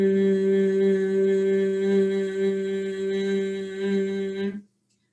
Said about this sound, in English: you're going to make a humming sound